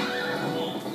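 A horse neighs in The Legend of Zelda: Twilight Princess, a dense, loud whinny that fills the whole second with no talking over it.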